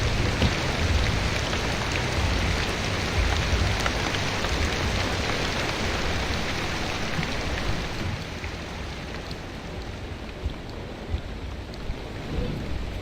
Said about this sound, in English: I don't love the rainy weather.